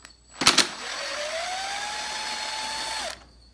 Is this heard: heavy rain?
no